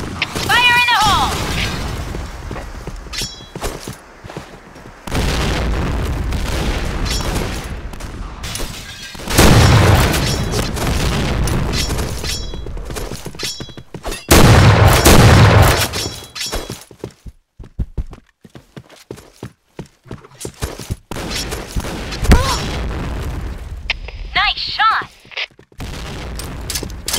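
A video game firefight with grenade explosions and bursts of gunfire, loud booms and rapid shots rising and falling, while game voice callouts are heard.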